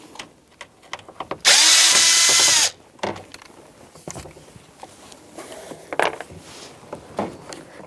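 A power driver with a 5/16 or 8mm socket removing screws from the dash of a 1997-2006 Jeep Wrangler, one loud sustained whir of about a second amid scattered clicks and rattles of handling parts.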